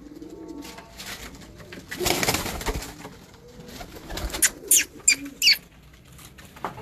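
Pigeons in a breeder's loft, just emerged outside, give soft coos and a few sharp calls toward the end, with a brief burst of wing flapping midway; fairly close, no talking.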